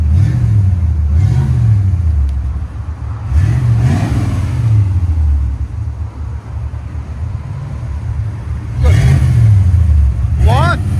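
A 1969 Chevy Chevelle with a 307 V8, true dual exhaust and Flowmaster 40 mufflers revs up close, with several throttle blips rising and falling over a steady idle rumble while people talk nearby.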